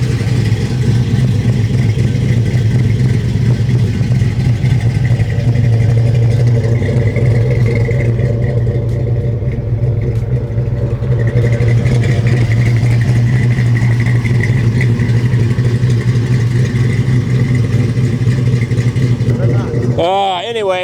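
A 1970 Dodge Charger 500 V8 runs loudly with a deep steady rumble close by for a long stretch, the pitch climbing briefly at the end as it revs, with people talking over it.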